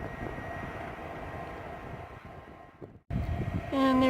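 Train at the Winnemucca depot, a steady low rumble and drone at moderate distance in windy conditions, followed by a sudden gust of noise and rising horn-like tones at the end.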